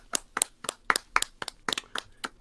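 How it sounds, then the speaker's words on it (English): A small group claps for a performer in a short, uneven burst of sharp claps, close and fairly loud, with no voices. "Let's all clap for Leo."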